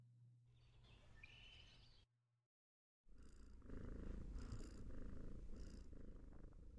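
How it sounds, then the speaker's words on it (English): A cat's purr from an ambient sound effect rumbles low and close, broken by a short silence, with faint bird chirps mixed in. "Comforting purring."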